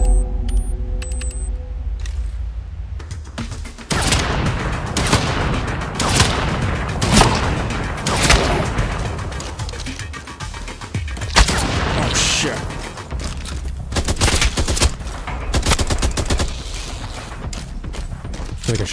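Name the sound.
shotgun fire in the video game EXOME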